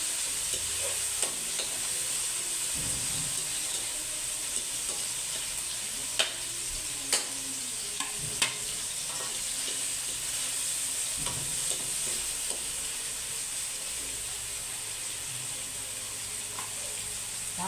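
Steady sizzle of a frying pan with tomatoes being added and stirred for a Filipino squid dish, with occasional scrape and clink accents over the continuous frying hiss, no talking.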